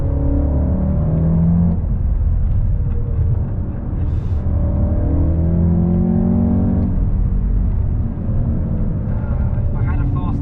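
A 2020 Volkswagen MK8 Golf R engine revs up and down several times from inside the car, rising and falling pitch sweeps over a steady rumble, fairly loud throughout.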